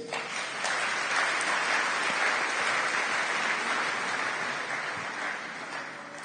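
A church congregation applauds steadily through a French-language sermon, a dense, even wash of clapping from many hands that holds for several seconds before tapering slightly.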